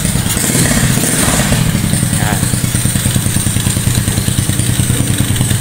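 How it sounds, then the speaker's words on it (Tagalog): A custom motorcycle engine idles loud and near with a fast, even thumping pulse and a brief rise in revs, while someone speaks a word over it. "kung i-rev natin"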